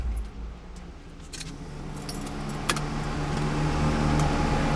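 A 1973 Camaro's engine and exhaust run at idle, a steady low rumble that holds close and loud throughout, with a few brief clicks and rattles over it.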